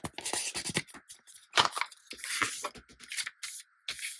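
Sheets of paper are folded in half while setting up a swatch book, giving crisp rustles and crinkles in quick bursts, close and fairly quiet.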